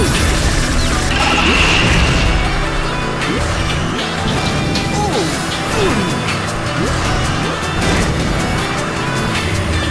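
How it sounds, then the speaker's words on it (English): A rocket attack fired by Eggman erupts in a Sonic racing video game, with explosive blasts and crashes over a constant roar of racing engines and dense game effects throughout. "Eggman's unleashing his rocket! Take cover!"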